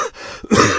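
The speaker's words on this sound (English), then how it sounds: "I'm coughing." A single short cough, close and fairly loud, with a brief rough burst after a moment of breathy throat noise.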